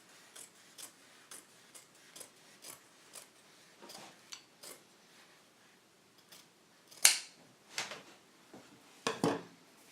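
Scissors snipping through fabric for a Magnepan SMG-A speaker sock, a steady series of crisp, close cuts, then a few louder, heavier snips near the end, with no talking.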